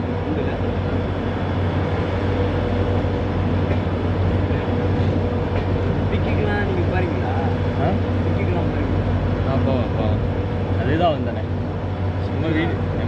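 A diesel-hauled Mumbai LTT–Madurai Express runs between Thakkolam and Chengalpattu, heard from on board as a steady, loud rumble of wheels on rails with faint rhythmic clatter, voices talking now and then.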